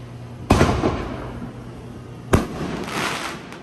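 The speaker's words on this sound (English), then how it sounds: "watching the little fireworks show in the dark" Fireworks bursting in the dark night sky, two sharp loud bangs about two seconds apart, each followed by crackling decay, over a low steady hum.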